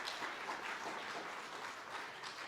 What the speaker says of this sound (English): Malcolm, Andrew, Louise, Wendy, and Graham, can we give them a round of applause?